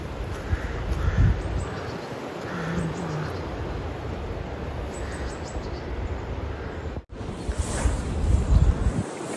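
Crows caw faintly in scattered bursts over steady wind and outdoor rumble near a busy roadside, the calls distant and partly masked by the broadband noise.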